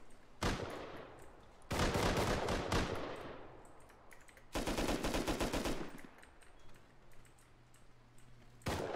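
Rapid automatic gunfire from a raid defense video game, bursts of fast repeated shots in three or four loud volleys separated by quieter gaps, with no talking.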